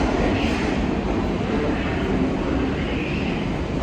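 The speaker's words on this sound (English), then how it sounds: "And here comes the number 5 train." New York number 5 subway train arriving at Brooklyn Bridge station, a steady loud rumble and rail rattle filling the platform, sustained throughout with no voices.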